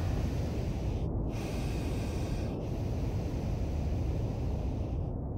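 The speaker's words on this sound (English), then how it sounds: "you hear the valves of the pressure suit as you breathe" Pilot breathing inside a pressure suit with its valves working, a steady close airy hiss of flowing air broken by a few short abrupt valve cutoffs, with no talk.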